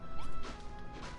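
A couple of quick crunching impacts as a bare fist punches sand in the Dragon Quest Builders 2 video game, close and moderately loud against a steady game background.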